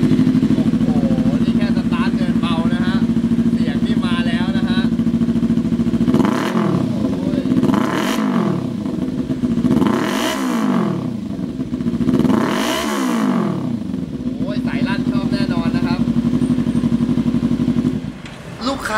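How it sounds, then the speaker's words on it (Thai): A 2016 Kawasaki Ninja 300 motorcycle idles loudly up close, its engine and exhaust rising in four distinct revs around the middle before settling back to a steady idle. "เรามาฟังเสียงเครื่องกับเสียงท่อกันดีกว่าครับว่ามันจะลั่นแค่ไหน"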